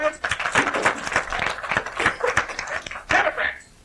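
Audience applause fills a college hall during a 1990 stand-up comedy show at OSU Lima Campus Reed Hall, a dense patter of clapping and cheers that swells and dips over a few seconds, briefly thinning before rising again.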